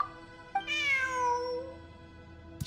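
A single drawn-out cat meow inside Genshin Impact, rising then falling in a long tonal cry, clear and close against a faint steady background hum, with a brief click at the start and end.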